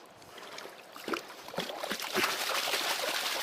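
Water washes river gravel over the front two riffles of a gold pan, a close, continuous splashing trickle that swells in uneven surges and grows steadily louder toward the end.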